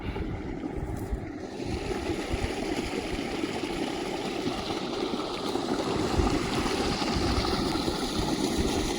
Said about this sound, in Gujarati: આ કેટલું પાણી આવે છે